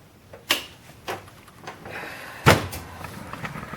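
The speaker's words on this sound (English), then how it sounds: "I'm going to close the door." The cabinet door of an Aristocrat Microstar five-reel video slot machine under repair is shut, with a few light clicks and knocks followed by a sharper thud midway, close by with no speech.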